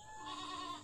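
A goat gives one short, nasal bleat of under a second, fairly close and clear over a quiet background.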